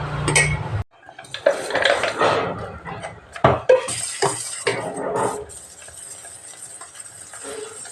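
A spoon stirs biscuits into puffed rice payasam in a metal pot, with irregular clanks and scraping knocks against the pot, close and fairly loud, then a quieter settling.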